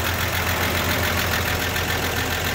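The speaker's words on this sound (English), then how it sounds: "Motor runs like a sewing machine. Sounds great." Inline six-cylinder engine of a 1951 Chevy Tin Woody wagon running smoothly, a steady, even hum with constant loudness and no voices.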